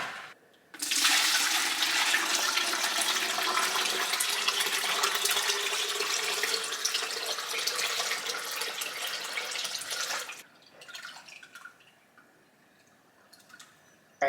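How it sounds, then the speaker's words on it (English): Soaking water from sea moss pours out in a steady, loud rushing stream for about ten seconds, then stops abruptly, leaving faint trickles and drips. "we drain this water so that we're not wasting any part"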